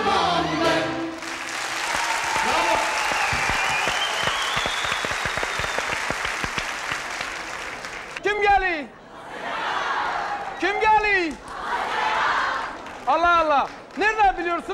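Studio audience at a 2002 Turkish television talk show bursts into loud, sustained applause for about eight seconds, which then gives way to someone speaking with brief pauses.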